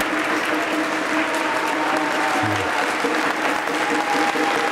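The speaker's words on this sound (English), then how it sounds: "I'd just like to give him a round of applause" A church congregation at St Bernard's breaks into sustained, dense applause honoring their priest, a steady wash of many hands clapping close and loud with no pause throughout.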